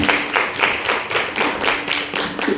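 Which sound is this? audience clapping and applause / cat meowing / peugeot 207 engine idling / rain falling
audience clapping and applause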